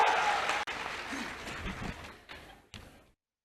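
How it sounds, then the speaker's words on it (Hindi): A school audience of students claps at a public event, a brief loud burst of applause that breaks off, then fades in a few scattered claps before going silent. "ताली बजाओ।"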